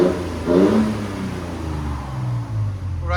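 A 2022-2026 Toyota Tundra with the high-output 3.4L twin-turbo V6 and Borla exhaust revs briefly, then settles into a steady low rumble at close range with no talking.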